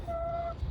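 A single drawn-out, tonal call from a hen among the chickens around the nest boxes of an allotment coop, lasting about half a second over a low background rumble.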